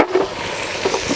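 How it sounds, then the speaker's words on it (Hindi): Tomatoes tossed into a pan of frying keema aloo, a minced meat and potato curry, cooked village style; a steady sizzle with a couple of brief stirring scrapes, close by and with no voices. "So first of all, I'm going to throw in the tomatoes"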